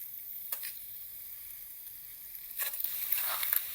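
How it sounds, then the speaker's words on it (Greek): Beef sears in a preheated pan with no oil, a steady hiss of sizzling with brief crackling bursts near the start and a louder, busier flare of spitting toward the end. "Πω, τα ακούτε, τσιγαρίζει."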